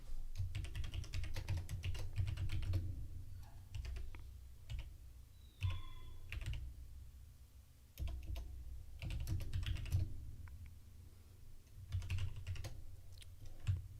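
Typing on a computer keyboard: close, steady clusters of light key clicks in several bursts separated by short pauses, with no voice over them.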